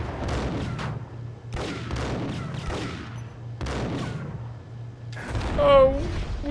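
Bursts of gunfire and explosions from the Max Payne video game come in several heavy booming volleys, with a ringing, warbling tone after the last blast. Someone talks excitedly over the action.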